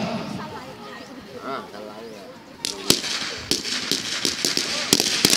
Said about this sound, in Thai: ข้าศึกยิงปืนใหญ่มาแล้ว